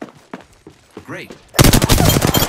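Gunfire from an Apex Legends ranked match erupts as a loud, dense burst of rapid shots in the second half, following quieter game sounds and a short synthetic voice line.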